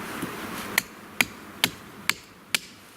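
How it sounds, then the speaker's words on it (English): A tomahawk used as a hammer drives a tent peg outdoors: five sharp, loud knocks land at a steady, slightly uneven pace, each a crisp isolated strike over quiet background. "If I want to hammer in the tent pack, got my hammer."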